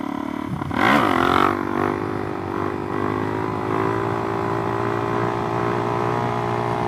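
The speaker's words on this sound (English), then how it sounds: "And it wouldn't be a true break-in if I didn't wheelie it." A Suzuki DRZ400SM motorcycle fitted with a used exhaust rises in pitch as it revs hard into a wheelie, a brief loud surge followed by a steady idle-like drone.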